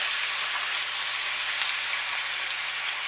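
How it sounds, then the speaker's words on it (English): Meat searing in a pot for beanless chili, a steady broadband sizzle and crackle held close and evenly throughout, with no voices. "Let's sear this up."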